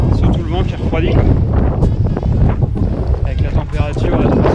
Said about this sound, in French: il y a un gros vent